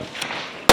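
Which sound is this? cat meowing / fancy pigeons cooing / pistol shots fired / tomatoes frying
pistol shots fired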